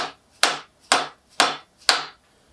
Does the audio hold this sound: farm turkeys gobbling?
no